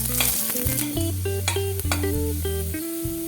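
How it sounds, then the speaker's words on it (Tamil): Garlic frying in oil in a kadai, giving a steady close sizzle with stirring, while sustained tonal sounds that resemble background music run through it. "பூண்டை மட்டும் நம்ம எண்ணெய் விட்டு நம்ம வதக்கிக்கலாம்"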